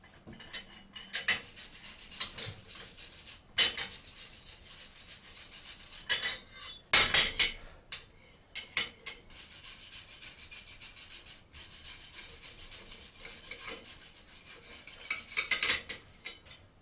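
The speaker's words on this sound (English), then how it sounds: "A little rasping." A hand-forged felling axe head worked with a rasp, giving intermittent scraping strokes with a few sharp louder bursts, fairly close and without talk.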